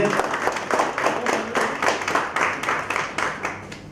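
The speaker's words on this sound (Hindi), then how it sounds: "मैं चाहता हूं कि जोरदार तालियां बजाकर हमारे अध्यक्ष महोदय का स्वागत कीजिए।" An audience at a Hindi poetry gathering claps in a steady, rhythmic burst to welcome the chairman, the hand claps close and even, with no talking over them.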